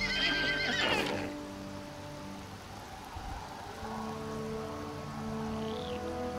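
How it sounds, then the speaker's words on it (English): Ponies in the fantasy role-playing game Pathfinder: Kingmaker give a loud whinny near the start, then settle into softer snorts and shuffling over a steady background of rain and low music. "the ponies neighed quietly, awaiting the order to begin pulling the cart from the river"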